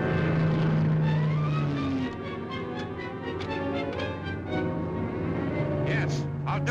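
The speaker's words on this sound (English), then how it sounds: "I see your plane now." Droning propeller airplane circling overhead, a harmonic engine tone that shifts in pitch as it passes, with a voice speaking over it.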